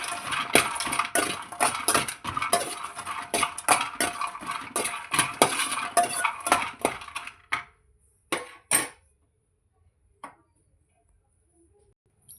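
Sesame seeds being dry-roasted on low flame while a utensil scrapes and taps the pan in a quick steady rhythm for several seconds, then a few isolated clinks and near silence.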